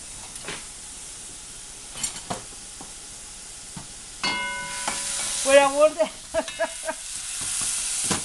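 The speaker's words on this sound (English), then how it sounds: "Heat up the sofrito a little bit" A wooden spoon stirs sofrito heating in a pan, making soft scraping strokes over a quiet sizzle that grows louder midway, joined by a brief tonal squeak.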